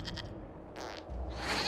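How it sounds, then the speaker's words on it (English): A goat bleating in the Dragon Age Inquisition video game, a couple of brief nasal calls over a low game ambience, fairly faint. "we discovered this man attacking the building with a goat"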